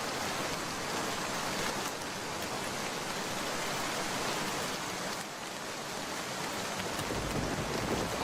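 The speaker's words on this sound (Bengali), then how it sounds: "মা, ঝড় তো থামলো, কিন্তু বৃষ্টি তো থামার লক্ষণ নেই।" Steady rain keeps falling after a storm in an animated cartoon scene, an even hiss of downpour that stays constant throughout, with no talk over it.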